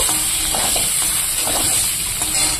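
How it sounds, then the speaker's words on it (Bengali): Eggplant pieces fry in oil previously used for frying fish, giving a steady close sizzle with soft crackles and occasional stirring scrapes throughout, no voices. "মাছ ভাজার তেলে আমি বেগুনটাকে ভেজে নেব।"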